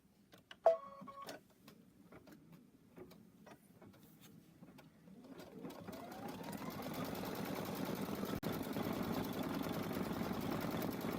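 A Solaris embroidery machine stitches a design for an embroidered greeting card. A few sharp clicks start it, then its motor builds into a steady, moderately loud mechanical hum that runs on alone.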